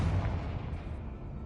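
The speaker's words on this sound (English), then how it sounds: "Confringo." A Confringo explosive spell bursts in Hogwarts Legacy as one dense, booming blast with a heavy low rumble that fades slowly over a second and a half.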